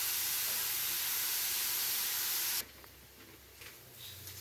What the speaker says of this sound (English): Toss in the blitz, onion, ginger, garlic, green chili. Saute on medium high until it turns translucent.